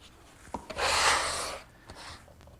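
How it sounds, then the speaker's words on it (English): A scrap of laminate spreads contact cement across particle board, giving a broad scraping rub that swells for about a second amid a few light clicks and taps, close and moderately loud with no talking. "I just spread it out with a scrap of the laminate"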